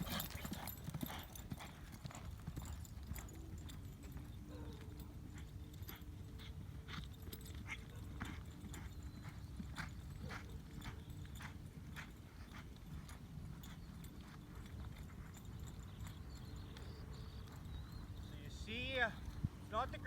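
A horse walks during barrel racing training, its hooves clip-clopping in a steady, moderately close rhythm, while a dog whimpers faintly and a person talks over it.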